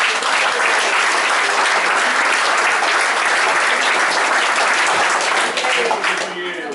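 Audience applause for club volunteers at a club president's speech, a dense, steady round of clapping that stays loud throughout and tapers slightly at the end.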